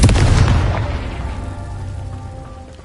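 A Confringo fire spell explodes in the video game Hogwarts Legacy: a loud, close boom that bursts at once and then rumbles and fades out over a few seconds.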